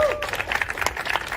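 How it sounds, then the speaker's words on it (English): A meetup audience at a JavaScript conference gives the winners a brief round of applause, with scattered clapping and a voice speaking over it. "give them a round of applause"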